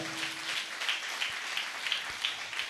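A church congregation at a fasting prayer meeting claps hands together, a steady soft patter of many palms at moderate distance, with no talk over it.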